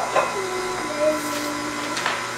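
An electric mixer whirs steadily while beating batter sweetened with xylitol for a Christmas bake, a continuous mid-level hum running through the whole span with faint voices briefly over it.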